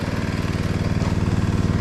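A small motor engine chugs at a steady, even idle, close and continuous with no voices over it.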